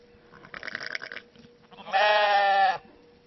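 Ewes and lambs bleating close by in a sheep pen, a few short calls followed by one long, loud sustained bleat.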